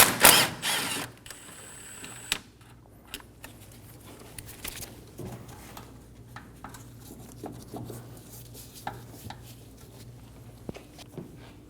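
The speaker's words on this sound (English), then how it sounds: "Using a 10mm socket, remove the bolt for the coolant reservoir." A ratchet with a 10mm socket loosens the coolant reservoir bolt on a 2008-2015 Scion xB 2.4L, giving close, irregular clicks and metallic scrapes after a loud opening clatter, with no talking.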